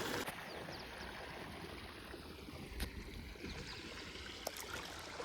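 Irrigation water flows into a cumin field, a faint, steady gurgling rush with occasional small splashes, continuous throughout and heard from close by outdoors.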